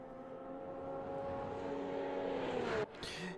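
Porsche GT3 Cup race car engine droning steadily in a racing video game, sustained harmonic whine rising slightly in pitch, close and loud, with a brief drop near the end.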